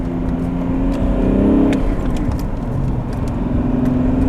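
A BMW E39 diesel car with an M57 engine and three turbos roars steadily as it accelerates hard in second gear, close and loud, with a rising whine and no voices.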